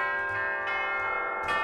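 Tubular bells from a sound font ring in a software multisampler, a few quick overlapping struck tones with bright, sustained metallic overtones, clean and close.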